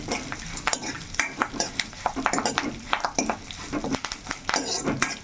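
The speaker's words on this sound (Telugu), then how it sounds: "చిటాపట చిటాపటలు ఉంటుంది కరివేపాకు అయితే కొంచెం వేగాలండి" Curry leaves in hot tempering oil for dal sizzle and crackle with rapid sharp pops, close by, while a utensil stirs and clinks against a pan.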